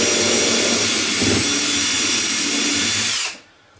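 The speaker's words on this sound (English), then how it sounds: "Now, drill holes." A power drill with a 3/32 bit whines loudly and steadily for about three seconds while drilling holes in N scale model railway track, then cuts off abruptly, leaving near silence.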